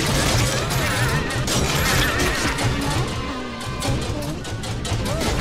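Rapid gunfire from the Deadpool platformer video game crackles in dense, continuous bursts mixed with crashing and shattering effects, loud and sustained throughout.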